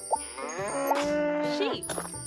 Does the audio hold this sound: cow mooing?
yes